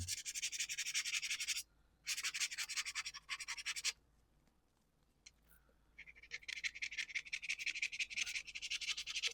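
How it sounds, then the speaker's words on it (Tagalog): Surface of a toy gun scrubbed by hand, close raspy rubbing strokes in fast rhythmic bursts with a quiet pause in the middle before scrubbing resumes. "Kailangan lang kuskusin mga idol."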